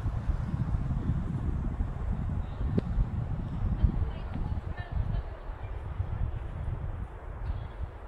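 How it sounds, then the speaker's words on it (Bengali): Strong wind blowing steadily across an open hilltop viewpoint at Netarhat's Koel View Point among tall trees, a dense low rumble of gusts buffeting close to the microphone with no break. "প্রচুর হাওয়া চলছে, হাওয়ার আওয়াজ পাচ্ছেনি।"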